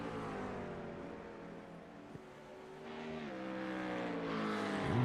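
Mustang and McLaren GT3 race cars lapping Watkins Glen in the iRacing sim, heard as a quiet, steady engine drone with shifting pitch that swells toward the end.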